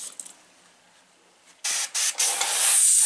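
An airbrush, plugged in for spraying T-shirts, bursts into a loud, close, bright hiss of air in short blasts that then run on steadily after a quiet start.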